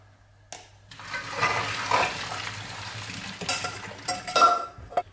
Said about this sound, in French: Ah, les pâtes sont prêtes, je vais les égoutter et les laisser de côté.